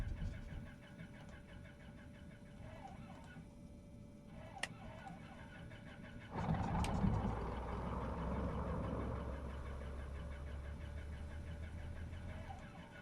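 Cessna 404 Titan engine cranking into a start in a flight simulator, a sudden louder onset midway giving way to a steady low engine drone that holds to the end, with faint ticking before it.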